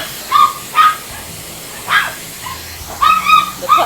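Puppies yip and bark in short, high-pitched bursts, about six sharp calls in uneven rhythm, close and loud over a faint hiss of a running hair dryer.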